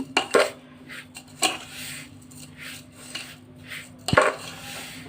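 A spoon stirs semolina laddu mixture in a metal bowl, with scraping, a few sharp clinks against the rim, and soft rubbing strokes in between. The sound is fairly quiet and close, with no voices.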